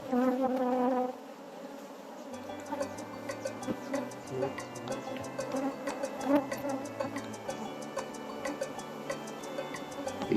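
Honeybees buzz steadily around a hive comb at harvest, a close, continuous drone with faint ticking and movement throughout.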